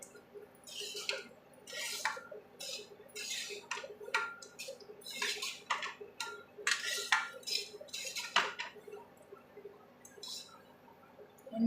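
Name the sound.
stirring lemon rice in a pan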